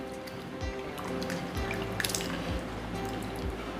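Potatoes are being rinsed by hand in a bowl of water during a second wash, producing soft sloshing and scattered drips and trickles, quiet and close, with no talking.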